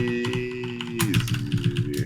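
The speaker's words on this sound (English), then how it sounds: "If I type in Bill, it doesn't print anything" Rapid keystrokes on a computer keyboard, fairly close and continuous for two seconds, with a steady electronic hum underneath.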